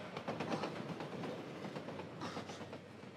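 A train rumbles past steadily in Borderlands 2, a continuous loud roar with rhythmic clickety-clack of wheels on rails, fairly close throughout.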